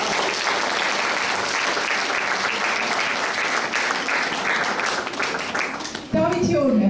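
Audience applause for a young writer named Davit at a literary event: dense, steady clapping from a crowd filling most of the stretch, then breaking off abruptly near the end as a voice begins speaking.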